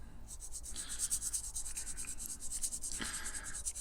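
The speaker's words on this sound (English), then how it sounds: "So all I need is a very light sand," Light wet-and-dry sandpaper rubbing over a Corgi 256 VW East African Safari die-cast model during restoration, quiet rapid back-and-forth strokes repeating close up with no talk.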